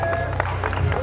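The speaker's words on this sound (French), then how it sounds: "donc vous pouvez les applaudir s'il vous plaît" Audience applause with crowd noise at a games award ceremony as winners are celebrated, a steady dense wash of clapping carrying through the whole brief moment.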